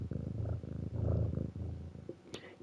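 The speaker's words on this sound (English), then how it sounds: "You guys probably hear the purring." A cat purring steadily up close, a continuous rumbling pulse that swells and fades with each breath, with a brief higher sound near the end.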